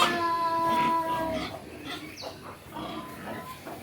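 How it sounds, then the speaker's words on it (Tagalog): Pigs on a farm grunt and squeal in a steady jumble of animal noise, with other livestock and birds faintly mixed in and a tonal whine fading out early. "Yung mga baboy na pinakita namin kanina, hindi yun sa amin."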